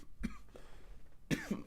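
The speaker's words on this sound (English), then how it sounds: "My bad, I'm coughing and shit." A man coughs, giving two short coughs, then after a brief pause two more harsh coughs, close to the microphone.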